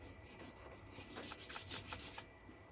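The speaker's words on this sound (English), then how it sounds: "Make sure I rub it." Soft pastel rubbed on paper, a quiet close scratchy rhythm of about a dozen quick back-and-forth strokes that grow brisker toward the end, with no voice.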